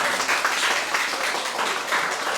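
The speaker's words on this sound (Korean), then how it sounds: "강사님께 다시 한번 큰 박수" Audience applause at an elementary school humanities lecture event in Buyeo, Korea, a steady wash of clapping from a gathered crowd of parents and students, moderately loud and continuous throughout.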